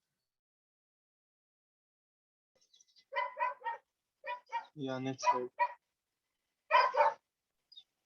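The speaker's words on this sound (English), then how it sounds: "That barking of the doggy is there." A dog barks in the background of an online lecture on noise pollution, with several short barks scattered among a person speaking.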